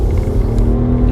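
A Chery Tiggo 3x Pro with a CVT gearbox pulls away, its engine holding a steady low drone with a faint rising tone, close and fairly loud.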